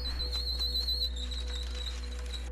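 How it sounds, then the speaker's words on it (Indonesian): A shrill, steady whistle sounds repeatedly in short blasts over a low constant hum, fairly close and piercing. "meniupkan peluit tanda bahaya"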